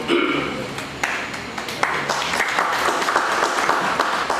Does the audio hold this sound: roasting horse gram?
no